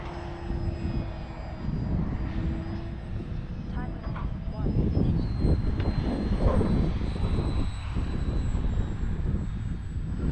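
Orange X-Fly Glastar V2 RC model airplane flying in gusty wind, its engine a steady drone through the whole stretch with wind buffeting, while someone talks over it.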